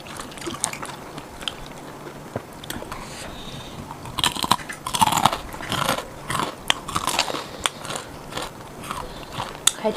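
Dinner being chewed up close, with loud biting crunches and crackly mastication bursting irregularly across the clip, heaviest in the middle, with no talk.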